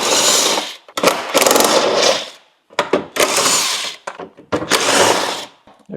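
A power tool removes 12 mm battery tray bolts from a Hyundai Elantra: a cordless driver whirs in several loud, close bursts, each spinning a bolt out, separated by short pauses.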